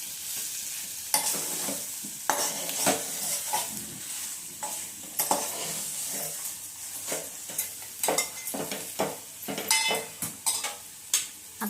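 Mashed potato vada filling is stirred in a frying pan, a constant sizzle under repeated scraping and clattering spatula strokes against the metal pan, close and busy, with no speech.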